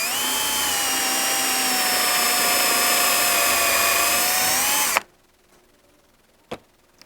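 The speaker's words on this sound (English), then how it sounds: "I'm just going to drill a little hole." A power drill bores a small hole for a gumball simple machine, giving a loud, steady high-pitched whine for about five seconds that stops abruptly, followed by a couple of faint clicks.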